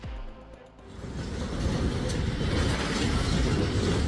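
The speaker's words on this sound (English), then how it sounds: "Canadian Pacific freight train cars derailed in Franklin Park." A Canadian Pacific freight train rolls past loudly and steadily, with a continuous low rumble and faint rail clatter building after a brief dip at the start, with no voices.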